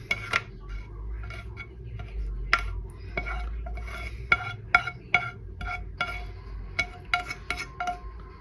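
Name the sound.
sauteed onions being mixed into meat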